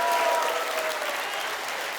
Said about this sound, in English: round of applause to the sponsors for that extra contribution to make this awesome